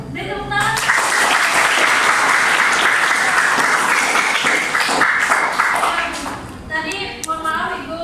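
Schoolchildren in a classroom give sustained, loud applause for several seconds during an academic supervision lesson, the clapping thinning out toward the end as a voice begins speaking.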